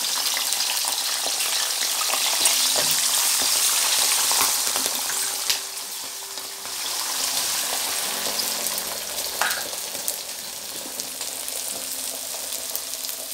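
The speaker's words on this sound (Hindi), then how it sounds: "जब हम मटर डालते हैं गरम तेल में तो वो एकदम उछलने लगते हैं" Raw peas and chopped onion fry in hot oil with a loud, dense sizzle that swells and eases, plus faint spattering pops and occasional stirring, close and unbroken.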